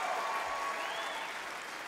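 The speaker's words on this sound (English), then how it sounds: "Come on, some more round of applause in here." An audience at a music awards ceremony claps steadily, a dense even wash of applause with a faint whistle-like tone sliding over it.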